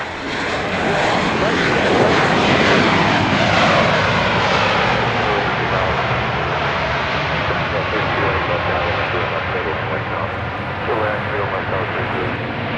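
A fixed-wing airliner lands at Dallas Love Field at night, a loud sustained engine roar that swells then slowly fades, with radio talk over it.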